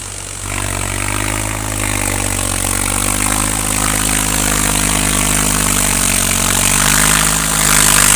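A tractor engine idles beside a flooded paddy field during rice transplanting, a steady, loud, close mechanical drone that holds throughout and swells slightly toward the end.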